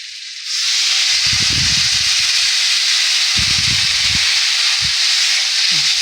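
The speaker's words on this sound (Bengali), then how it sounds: "সাঁতলে নিয়ে এবারে আমি জল দিয়ে দেবো।" Water tipped into sautéed bottle gourd in a hot pan for Bengali shukto bursts into a loud, steady hiss that holds throughout, with bubbling and stirring thuds underneath.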